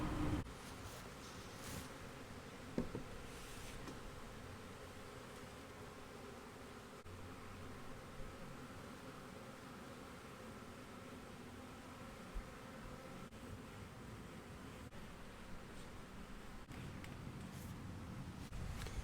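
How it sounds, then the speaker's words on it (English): A faint, continuous drone of a honey bee swarm, a steady hum with occasional louder individual buzzes passing nearby, outdoors with light wind. "see where the bees are headed"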